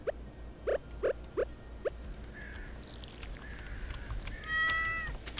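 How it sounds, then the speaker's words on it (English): Several short, close meows from a cat in the Stardew Valley farming game, in a quick run of four at first, followed by higher chirpy game sound effects with no talking. "Can't forget about the kitty."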